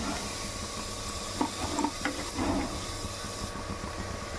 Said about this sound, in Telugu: వీటిని కూడా చక్కగా ఫ్రై చేసుకుందాము